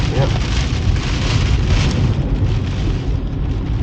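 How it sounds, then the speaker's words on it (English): Storm Ciaran's gale gusts buffet a car in Guernsey, a constant loud roaring wind rush with rain-like hiss, heard close from inside or beside the vehicle, with no pause. "Blustering against the car."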